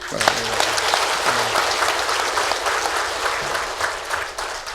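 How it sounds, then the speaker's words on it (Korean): A church congregation claps steadily throughout a worship service, dense applause with a pastor's voice speaking over the top of it. "자유 대한민국 삼천리 반도 강산 주신 하나님께 영광의 박수."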